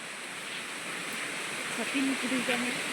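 A monsoon-season waterfall roars in a steady wash of rushing water, moderately loud and continuous, while a person speaks briefly over it near the end.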